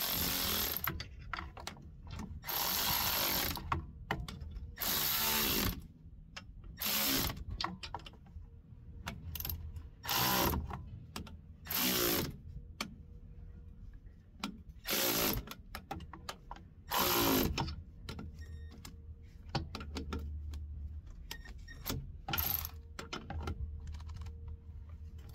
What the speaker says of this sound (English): Now tighten the motor bolts.